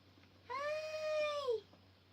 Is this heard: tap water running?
no